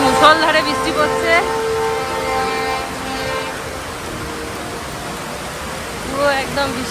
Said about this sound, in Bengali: বাইরে মুষলধারে বৃষ্টি পড়ছে